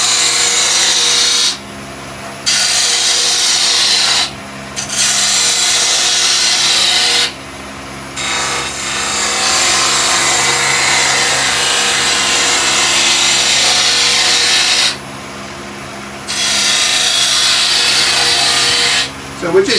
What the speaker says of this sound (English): So we're just using the bowl gouge to give some nice deep concaves and the cones and the convex curves.